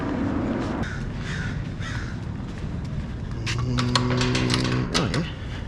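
Outdoors on a fishing trip, several crows caw with harsh, repeated calls, some nearer and louder, over a steady background of wind or rushing ambient noise, with no talk.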